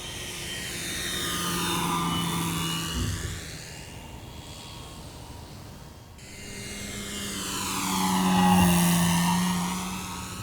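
An E-Flite Turbo Timber electric RC plane on a 6S battery makes two flybys, its whining motor and propeller rising, falling in pitch with a Doppler sweep as it passes overhead, alone without voices.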